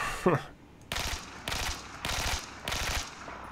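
Automatic assault rifle fire in Battlefield 4, with four loud, close bursts of rapid shots separated by short pauses, preceded by a brief squeaky effect.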